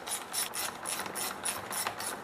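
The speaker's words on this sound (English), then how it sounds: "Now reinstall the two 8mm nuts and tighten them on evenly so that the cover is on straight and even" A ratchet tightens two 8mm nuts on the cover of a Stihl FS38 grass trimmer, producing a quiet, even run of rapid close-up clicks with no voices.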